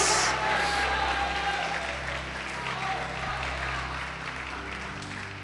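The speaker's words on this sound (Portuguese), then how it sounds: "pode aplaudir o Senhor Jesus." Church congregation clapping together during a Portuguese sermon, a continuous wash of applause that fades slightly toward the end, with a low hum underneath.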